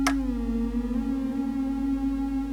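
A LYRA-8 synthesizer holds a sustained, steady drone washed in reverb, with rich layered overtones ringing evenly after a brief bright onset, alone and fairly loud throughout.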